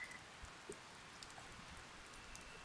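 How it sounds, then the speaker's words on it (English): Rain falling in the PS2 farming game Harvest Moon: Save the Homeland, a faint, steady patter of drops with an even hiss throughout. "I can't stand it when it just rains every day like that."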